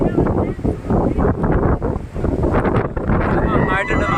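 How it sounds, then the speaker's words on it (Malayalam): Strong gusting wind at the Doddabetta viewpoint in Ooty buffets the microphone with loud, continuous roaring, and voices talk underneath it throughout. "നന്നായിട്ടുണ്ട്, നല്ല കാറ്റുണ്ട്."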